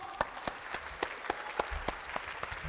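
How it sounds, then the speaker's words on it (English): A scattered round of applause at an apprenticeship award ceremony, individual claps landing in an uneven rhythm from a modest crowd. "Give them a massive round of applause."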